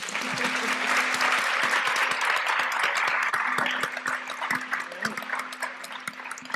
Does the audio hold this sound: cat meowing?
no